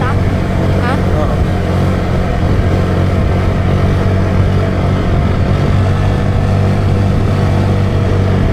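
Motorcycle engine running loud and close on a steep road, a steady continuous drone with no clear revs, while riders talk nearby.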